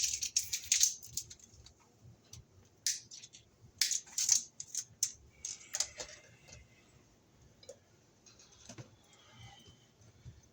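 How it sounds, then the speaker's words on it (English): Plastic sheathing is cut off 14-gauge MC cable with a series of quiet, sharp snips and clicks in irregular bursts, some clustered and some isolated, against a near-silent background. "So we'll cut our plastic off here."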